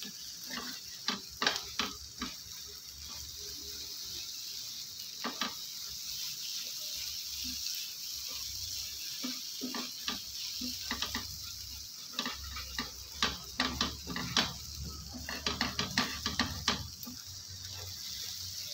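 Egg being stirred and turned in a frying pan, with soft sizzling under repeated sharp scraping and tapping of a utensil against the pan, close and moderately quiet.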